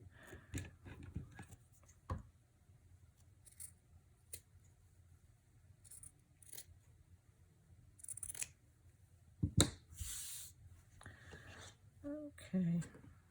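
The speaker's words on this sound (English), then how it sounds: "Gotta trim that up just a little bit more." Scissors snipping fabric in a slow-stitching workshop, a few quiet, scattered cuts and handling rustles, with a person talking at times.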